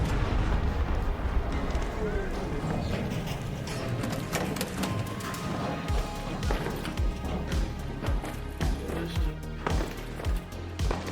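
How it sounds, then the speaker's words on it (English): Gunfire in the extraction shooter ARC Raiders, a long run of sharp, loud shots in an uneven rhythm growing denser in the second half, with booming impacts and a speaking voice mixed in. "I'll just shoot it up though."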